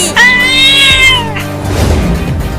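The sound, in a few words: cartoon cat meowing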